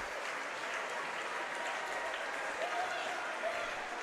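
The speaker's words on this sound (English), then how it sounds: "Nice ovation from the crowd as they take a seat for the final time." Sustained applause from a crowd at a high school boys basketball game in a fieldhouse, greeting seniors leaving the floor; a steady, dense, fairly distant ovation with no speech over it.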